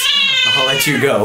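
A Devon Rex cat gives a drawn-out, rising and falling meow close by, heard over a voice speaking at the same moment.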